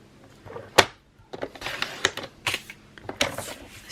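Scissors cutting a piece of tracing paper for a Halloween paper lantern craft: a sharp snip, then a series of crisp, close paper cuts and rustles in an irregular rhythm, with no voices.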